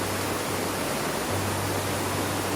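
Second tier of the Tha Yang waterfall, a steady broadband roar of falling water filling the scene at close range, unbroken throughout with no voices.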